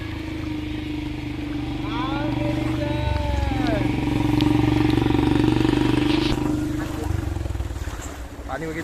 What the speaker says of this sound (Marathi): हे बघा गाड्या बघा पाण्यातून